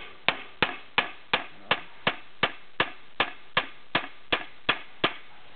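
A hammer drives a stud into the wheel hub of a tricycle, about fifteen sharp, evenly spaced metallic strikes at a steady rhythm, close and loud.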